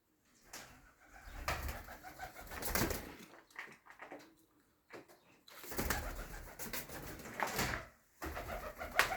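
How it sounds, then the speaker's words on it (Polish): Wild pigeons cooing inside a dovecote, soft repeated throaty coos in bursts separated by short pauses, close and fairly quiet, with faint rustling of birds moving. "Kolejny filmik z dzikimi gołąbkami."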